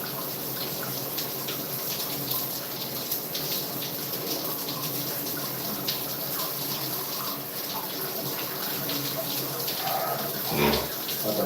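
Hot water running steadily from a tap into a sink, a continuous loud gushing rush with a brief splash near the end, heard alone without talk.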